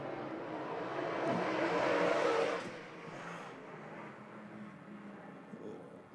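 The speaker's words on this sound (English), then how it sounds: "your top 6 cars do battle on the racetrack" Late model race cars at Arizona Speedway make a steady, distant engine roar that swells briefly, then settles into a fainter drone as the pack circles the track.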